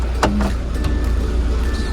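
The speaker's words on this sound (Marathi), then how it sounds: "डोर लॉक करा" Tata Tavera door locking: one sharp mechanical click followed by a short whirring actuator buzz, then a low steady background hum.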